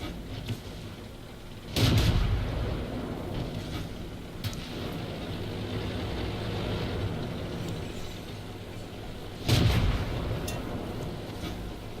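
A Churchill 3 tank's main gun in World of Tanks fires twice, about eight seconds apart, each a loud close blast over a constant rumbling engine drone.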